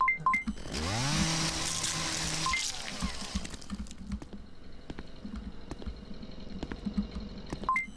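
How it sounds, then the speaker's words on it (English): A chainsaw in the horror video game Dead Man's Journey revs up loud and rising for a couple of seconds, then fades into a steady low hum with scattered clicking and tapping. "Who's doing with that freaking chainsaw?"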